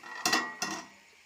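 A lid set down on a pot of greens cooking with a little water, two quick metallic clinks close by against a faint simmer, no voices.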